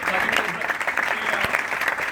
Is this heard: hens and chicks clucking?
no